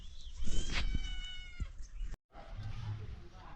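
A cat meows close by, a drawn-out, slightly strained call followed by a shorter one, then a brief quiet with low background noise.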